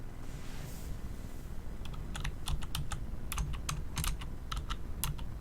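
Typing on a computer keyboard set in an awkward spot, a run of irregular sharp clicks and key taps at close range over a low steady background hum, with no voices.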